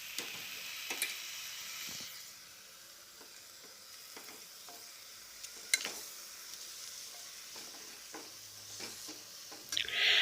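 Mutton curry is stirred in a pressure cooker with a steady, quiet sizzle, and occasional scrapes and clinks of the spoon against the metal pot sound close by.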